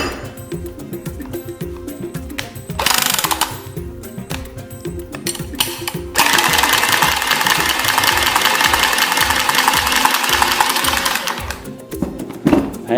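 A Milwaukee 2471-20 cordless tubing cutter spins around copper pipe, a rapid mechanical whir in two long bursts separated by quieter clicking and handling, close and loud with no talking.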